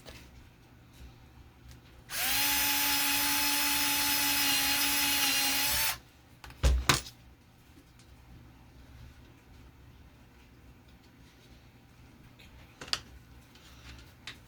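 A power drill driving screws into wood whirs steadily for about four seconds with a rising pitch, then stops; a few sharp knocks and clatters follow in a quiet room.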